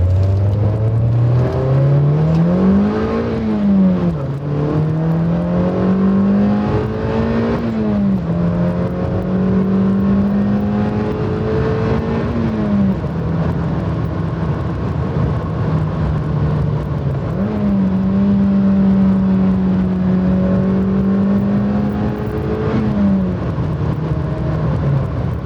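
A 2008 Mazda MX-5 Miata NC engine revs up steadily through the manual gears, dropping briefly between shifts before climbing again, loud and continuous throughout.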